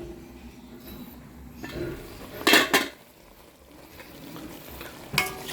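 A lid set onto a chicken tinola cooking pot, a couple of close metallic clanks around the middle over a low background of simmering and kitchen noise, then another brief knock near the end.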